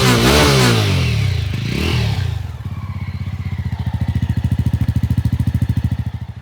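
Jawa Special Edition motorcycle exhaust recorded up close: a loud throaty rev fades into a steady, deep thumping idle with a fast even beat and growly clatter.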